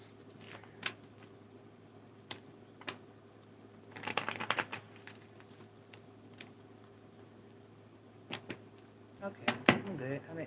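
Intermittent papery riffling and snapping of tarot cards being shuffled in bursts, with quiet pauses between and a low steady hum underneath.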